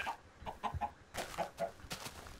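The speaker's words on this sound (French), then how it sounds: "C'est poulet." Minecraft chickens cluck in a game, a handful of short, clipped clucks in two quick clusters, fairly close and clear.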